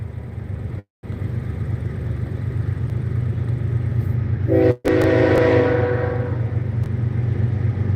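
A southbound Norfolk Southern freight train rumbles steadily past at a grade crossing, loud and close throughout, with a brief horn-like tonal blast partway through and wheel and railcar noise continuing after.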